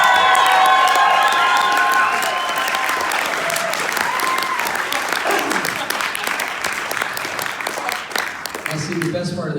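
An audience at a hypnotist's stage show breaks into loud, sustained applause with cheers and whoops. The dense clapping fills the room and eases slightly toward the end, when a voice begins to speak.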